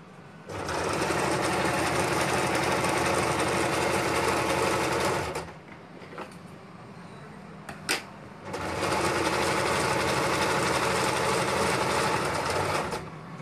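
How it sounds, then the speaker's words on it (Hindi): A sewing machine double-stitches a kalidar salwar in two loud, steady runs of rapid mechanical whirring, separated by a short quiet pause with a sharp click as the fabric is repositioned. "double stitching"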